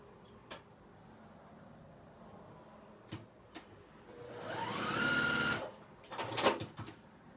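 A Juki sewing machine runs in a short burst, its motor whirring up and steadying for about a second before stopping, followed by a few light clicks and taps nearby.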